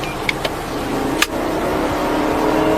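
Suspect car on a highway shoulder making a U-turn and accelerating, its engine rising into a steady roar beneath road noise, with a couple of brief clicks and a sharp knock early on.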